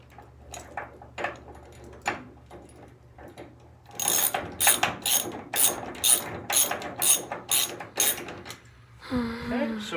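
Ratchet tightening bolts during a Mustang door installation: a run of quick, loud, close clicking strokes in a steady rhythm after softer handling noises, with a brief voice at the end.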